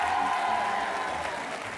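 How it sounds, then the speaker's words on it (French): Sustained applause from a television game show studio audience, steady and dense throughout, with no talk over it. "On les applaudit fort"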